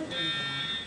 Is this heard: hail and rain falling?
no